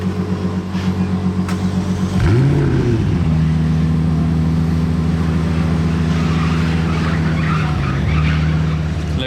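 A hypercar in Monaco starts up and pulls away, a loud low engine drone that rises sharply into a revving burst, then holds a steady roaring tone close by before easing slightly near the end.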